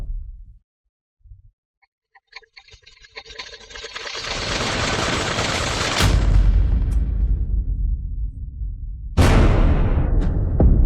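A few faint early pops, then a heavy sustained roar of gunfire that swells loud, with a fresh sharp blast near the end.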